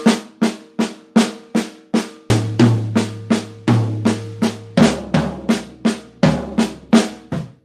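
Drum kit sticking pattern played at a slow tempo, a steady run of evenly spaced strokes with the right hand moving to new drums so the pitch shifts through toms every few beats, close and loud.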